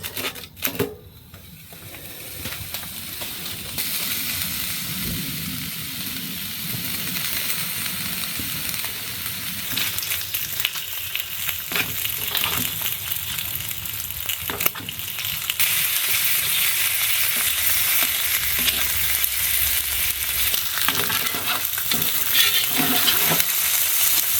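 Bacon strips sizzle and fry in a pan on a wood stove inside a hot tent at a snowy winter camp, a continuous loud crackling hiss that grows denser partway through, with occasional clicks from tongs.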